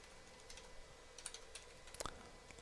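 A command being typed on a computer keyboard during network switch configuration, a sparse run of faint, close key clicks with a quick cluster of taps near the end.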